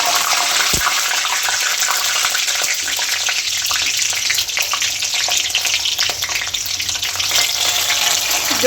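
Whole chillies hit hot oil for a dhaba-style Punjabi dal tadka, producing a loud, steady, close sizzle that crackles evenly throughout, with one small knock near the start.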